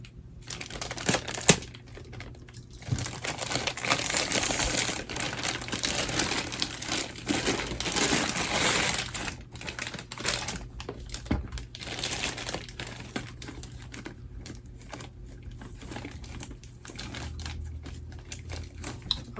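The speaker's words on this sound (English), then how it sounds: "So let me cut this open." A plastic package being cut open during an unboxing at home, with close, continuous crinkling and snipping of the plastic in irregular bursts and no talk.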